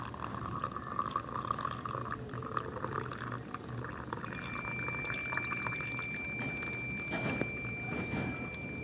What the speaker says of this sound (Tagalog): Bubuhusan natin siya ng mainit na tubig.